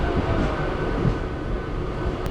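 Passenger train running from Tiruttani to Chennai Central, a steady, loud rumble of carriage and rail noise heard from on board, continuous throughout with no speech.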